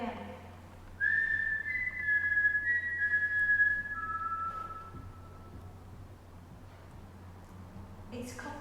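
A person whistles during a ghost hunt, a sustained high whistled tone lasting about three seconds then a lower held note, over a steady low hum in a quiet indoor space.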